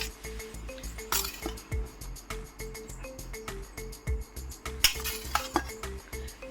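A metal spoon clinks steadily against a dish while curd rice is served, bright repeated taps in an uneven rhythm, close and fairly soft with a faint background tone.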